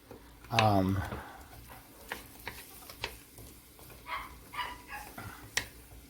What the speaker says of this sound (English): I'm sorry if you hear my puppies